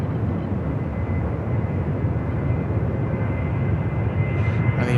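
A Jetstar Airbus A321 jet airliner at Sydney Airport gives a steady, distant engine roar with a broad rumbling drone that holds constant throughout.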